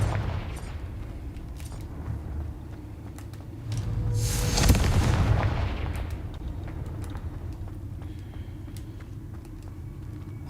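Confringo fire spell explosion in a Harry Potter video game, with a single rushing, roaring blast that swells in the middle and fades over a couple of seconds above a constant rumbling game background.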